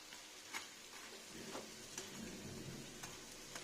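Bori lentil dumplings made from biri kalai fry in oil, giving a faint, steady sizzle with occasional soft stirring clicks and scrapes, no voices.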